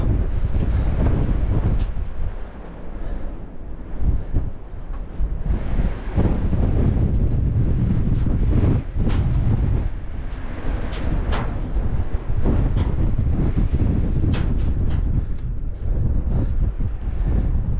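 Strong wind roars and buffets against the microphone on a tower in the Smokies without letting up, with gusty bursts and rumbling throughout.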